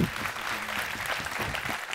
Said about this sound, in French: Je vous demande d'applaudir celui qui ce soir aura peut-être le dernier mot, Foucault Monteux.